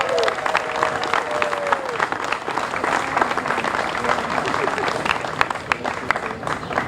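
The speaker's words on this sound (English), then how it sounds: "can we give the merchants in this block a round of applause" A street crowd claps steadily for the merchants of the renovated 200 block of Clematis Street, dense continuous applause outdoors with a voice briefly audible over it.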